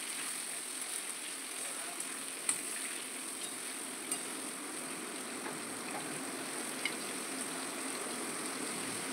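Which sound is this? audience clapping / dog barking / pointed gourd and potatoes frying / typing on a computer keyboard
pointed gourd and potatoes frying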